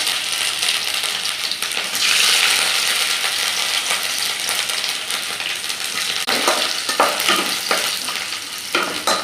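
Coconut oil sizzles and crackles steadily in a pan with mustard seeds, cumin and chopped ginger popping, then a spoon scrapes and stirs in short clattering strokes near the end.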